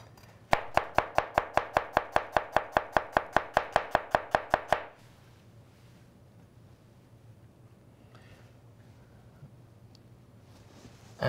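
A knife chops onion coarsely on a cutting board in a fast, even run of about twenty crisp, close taps, then stops, leaving quiet room tone.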